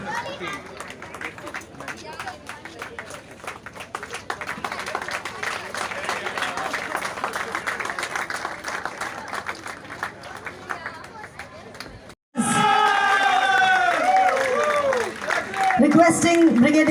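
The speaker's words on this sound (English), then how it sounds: "give him a round of applause, he's here" A crowd applauds at a prize distribution for a rain-run race, with a broad, steady patter of clapping and cheering from many people, joined by a loudspeaker announcer whose voice carries over the crowd.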